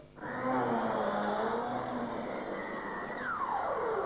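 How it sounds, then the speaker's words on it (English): A loud, steady Hoover Hero vacuum cleaner drone runs throughout, with a whining motor tone that sweeps downward near the end. "The new Hoover Hero, a super cleaner."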